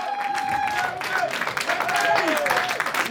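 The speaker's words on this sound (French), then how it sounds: "on peut l'applaudir, merci." A crowd at a political party meeting claps in a dense, continuous patter while voices call out over it.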